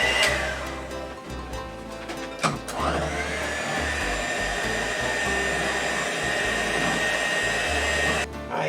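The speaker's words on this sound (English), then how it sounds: "And then I have a mixer." An electric mixer whirs loudly and continuously, beating powdered potatoes with liquid into a mash, with a brief dip and change in pitch early on before a steady high motor drone.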